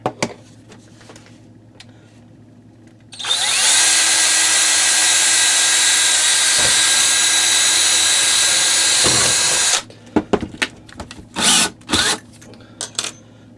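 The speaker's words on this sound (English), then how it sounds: "Super dull drill bit to boot," A power drill with a dull bit whines loudly and steadily for several seconds, then stops, followed by scattered clanks and scraping of metal and wood.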